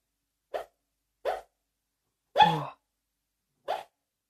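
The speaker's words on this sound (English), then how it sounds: "My dog's having a dream and she's like full on talking in her sleep." A sleeping, dreaming dog gives four short muffled yips and woofs, spaced irregularly in a quiet room, the third longer and louder.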